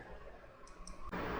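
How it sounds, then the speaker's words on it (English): A couple of faint, crisp computer mouse clicks tick over a steady room hum, followed by a sudden burst of broadband noise near the end. "Control plus mouse click."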